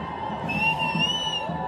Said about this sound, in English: You can hear that cheering as people are starting to enter toward Main Street right now